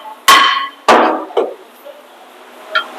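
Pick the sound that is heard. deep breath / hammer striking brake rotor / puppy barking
hammer striking brake rotor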